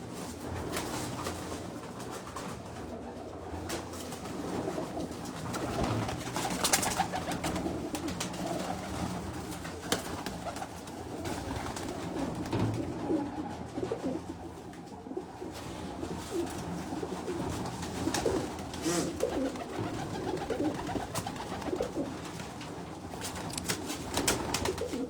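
Lakha pigeons at a loft in Jinnah Garden, Islamabad, coo steadily and repeatedly for a long stretch, several birds calling close by amid rustling and ambient noise.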